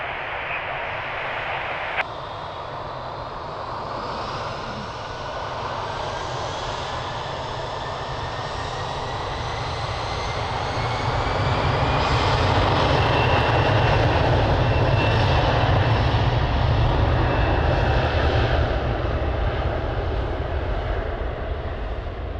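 A jet airliner takes off from runway 02 at Lisbon Airport, a loud, steady engine roar that swells in the middle and stays high to the end, with a rising whine running through it.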